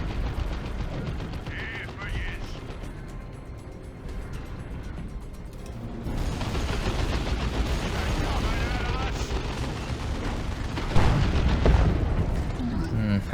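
Battle sounds from Dawn of War 2 Retribution as a looted tank is blown up, with heavy booming blasts and crackling gunfire building into a dense, loud barrage, one sharp explosive hit late in the clip.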